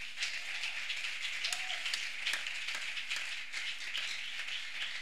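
A church congregation applauds at a Sunday service, a continuous spread of many hands clapping at moderate distance, fairly quiet and even throughout, with a faint hum underneath.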